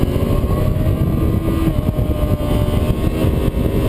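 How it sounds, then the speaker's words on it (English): A Yamaha YZF R6 600cc supersport motorcycle runs on a racetrack, its engine a loud, continuous high-revving drone with no talk over it. "All right, the Yamaha YZF R6, same basic motorcycle since 2008."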